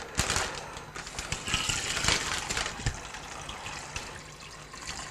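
Tap water gushes and splashes into a small pan holding eggs, a steady close pour with bright splattering throughout.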